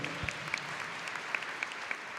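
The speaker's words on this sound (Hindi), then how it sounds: "उनका ताली बजा के हम स्वागत करें।" Audience applause welcoming a pastor at a Christian gathering, a steady, fairly faint patter of clapping with a few sharper claps standing out.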